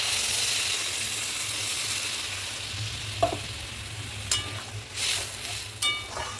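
Spiced eggplant and potatoes fry in oil in a pan as water is added, making a steady close sizzling hiss, with a few light clinks and stirring scrapes toward the end.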